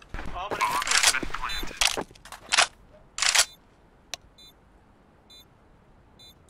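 Sharp gunshots from a CS:GO match, a quick burst of several close reports followed by a few isolated single shots, with brief clicks in the gaps between them.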